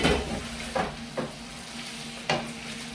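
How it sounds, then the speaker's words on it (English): Beef for a beef and broccoli stir-fry sizzling in a pan, with a continuous fry hiss and three or four distinct scraping stirs close up. "Let's just stir up our meat while we're talking."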